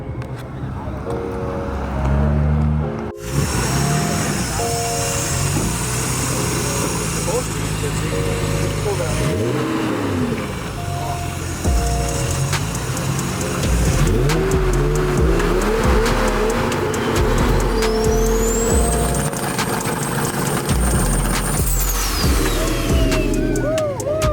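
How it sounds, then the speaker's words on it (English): Nissan GT-R at a JDM car meet revving hard on two-step launch control, with repeated sharp rising and falling engine bursts, other cars and tire squeal around, and voices talking at times. "The aftermath of doing a two-step in the GTR."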